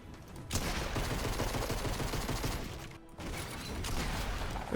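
Dense, sustained bursts of rapid gunfire in the video game Fortnite, with a brief pause partway through, loud and continuous.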